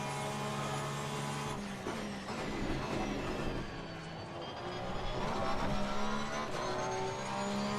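A race car engine in Assetto Corsa Competizione, revving up and down through gear changes and braking, loud and continuous with harmonic engine whine, no talk.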